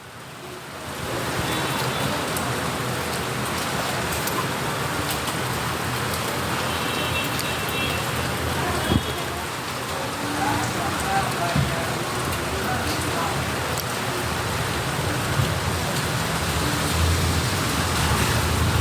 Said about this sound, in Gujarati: વરસાદ મસ્ત આવે છે, સારો એવો વરસાદ આવે છે.